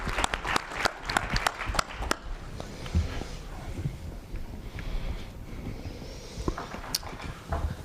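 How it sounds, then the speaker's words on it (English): Conference audience applause bursts loudly at first with sharp individual claps, then fades into scattered, softer clapping and room noise before a few last claps near the end. "Dr. Michael Bonin, another round of applause."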